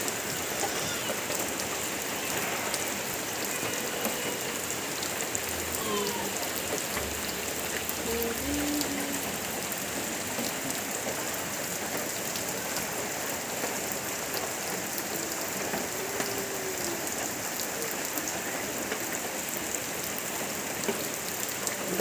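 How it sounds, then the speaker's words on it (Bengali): Steady heavy rain pours down without a break, a dense even hiss of drops striking surfaces close by with no voices over it. "বৃষ্টি মোটে কমছে না"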